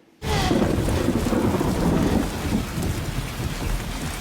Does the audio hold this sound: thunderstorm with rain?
yes